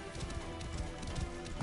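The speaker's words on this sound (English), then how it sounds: "I want to ride the horse." Horse hooves clip-clop at a steady trot in Assassin's Creed Origins, a rhythmic series of soft thuds under a constant game ambience.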